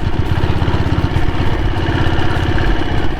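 A 1998 diesel Royal Enfield Bullet motorcycle idles close by with a steady, loud, low thumping rhythm that continues unbroken throughout.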